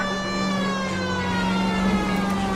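Police car siren in L.A. Noire, a steady wailing tone with strong harmonics sounding continuously and loud, with no voices over it.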